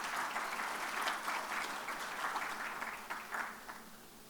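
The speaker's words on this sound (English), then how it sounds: "big round of applause" Audience applause at a stage event as a guest is called up, steady clapping from a medium-sized crowd throughout, fading slightly at the end.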